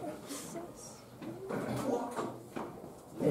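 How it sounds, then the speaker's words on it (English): In a classroom, a door opens and closes with soft sliding, thudding sounds, partly masked by people talking nearby. "Someone goes out the door."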